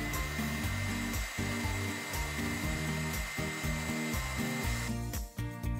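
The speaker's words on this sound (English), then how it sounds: "Using my heat gun, we're going to quickly bake the clay." A heat gun bakes oven-bake clay on a custom figure, blowing a continuous whirring, rushing roar with a steady motor hum, close and unbroken, brightening slightly near the end.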